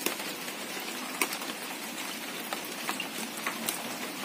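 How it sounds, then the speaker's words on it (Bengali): Heavy rain that has fallen since before dawn hisses in a steady, dense wash, with scattered louder drops and splashes on nearby surfaces, and no voices. "প্রচন্ড বৃষ্টি হচ্ছে সকাল থেকে"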